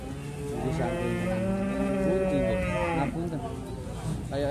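A jumbo cow from the slopes of Mount Merapi moos in a long, loud, drawn-out call lasting a few seconds, followed by a shorter low grunt and background farm noise.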